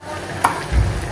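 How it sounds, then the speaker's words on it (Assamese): Meat and onions fry in hot mustard oil, a brief, close sizzle with a small clink partway through and a rising hiss toward the end. "এতিয়া ইয়াতে দি দিম মাংসখিনি মই পিঁয়াজ চিয়াজ দি এনেকৈ ভাজি আছোঁ"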